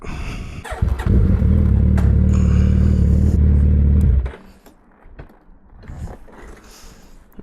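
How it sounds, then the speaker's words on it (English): A Suzuki Hayabusa motorcycle with a new aftermarket exhaust gives a loud, sustained rev for about three seconds, then drops abruptly to a quieter idle with scattered clatter. "And then we can wring out this exhaust a little bit."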